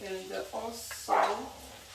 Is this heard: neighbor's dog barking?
yes